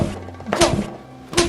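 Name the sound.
someone being hit, a thud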